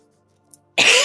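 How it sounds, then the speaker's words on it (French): A woman gives a single sharp, loud cough near the microphone after a brief near-silence and a tiny click. "excusez-moi si je tousse un petit peu"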